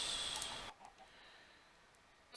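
Chickens cluck in a blocky survival crafting game, a short burst of close, loud clucking at the start that cuts off abruptly, leaving faint ambient game sound.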